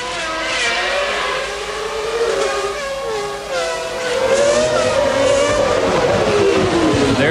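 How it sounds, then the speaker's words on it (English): Ferrari Formula 1 car with roughly 700 horsepower, its engine note rising and falling as the throttle is feathered on a very wet, slick track at the 1995 Japanese Grand Prix; loud, continuous, wavering howl with no talk over it. "Let's just listen to the Ferrari for a second. Feathering that throttle"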